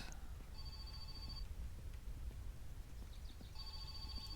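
A telephone ringing in My Summer Car, two faint electronic ring bursts separated by a short pause, heard quietly over low background rumble.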